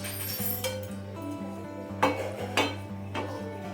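A frying pan set down on a home kitchen stove, giving a few sharp metallic clinks and knocks over a steady low hum, close and moderately loud.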